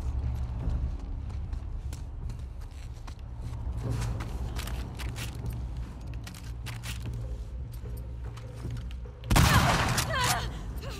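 Gunfire in the video game The Last of Us Part II, with scattered sharp shots and bursts over a low rumble of background sound. The loudest burst comes near the end, and a voice talks faintly in places.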